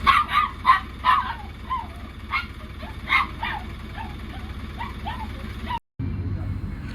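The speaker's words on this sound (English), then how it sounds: "a dog, also waiting for the Corwin bus, who just really doesn't like buses" A dog waiting at a rural Welsh bus stop yaps and barks at passing buses in quick repeated bursts, then breaks into scattered whimpering yips over low traffic rumble, with a brief dropout near the end.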